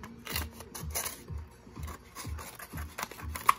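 Repeated crisp snips of sharp scissors cutting a paper cassette cover, about six quick cuts in a steady rhythm, close by with no talking.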